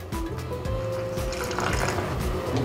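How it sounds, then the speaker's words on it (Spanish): A little water is poured into a small container while flour is being prepared for a homemade squash dessert; a short, steady trickling fill is heard up close and quiet. "Colocamos un poquito de agua"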